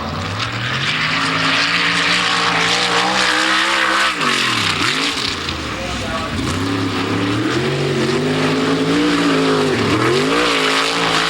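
Sprint cars race around the track at Kankakee, engines roaring loudly and rising and falling in pitch as they power through the turns, with crowd-level ambience beneath.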